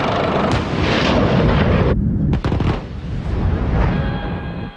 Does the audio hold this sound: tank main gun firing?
yes